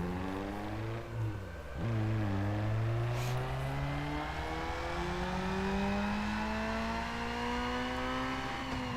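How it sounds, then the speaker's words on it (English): A tuned car revs hard on a dyno in Need for Speed Underground 2, its engine climbing steadily through the gears with brief dips at each shift, loud and sustained with no talking. "let's do a dyno run and see how much power we gained"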